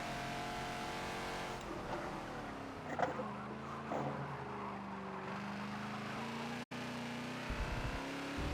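Race car engine in the Forza video game, with a Ferrari mentioned, droning steadily at high revs with shifting pitch, a brief skid-like burst midway and a short cut near the end.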